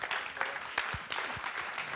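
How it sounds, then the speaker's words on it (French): Applause from an audience after a bilingual talk at a business success day event in Paris, soft and fairly distant clapping with a few louder hand claps standing out close by. "On l'applaudit très très fort."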